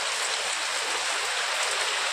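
Continuous rushing water after 24 hours of rain, a broad steady hiss close by, like a strong stream or heavy runoff, with no voices.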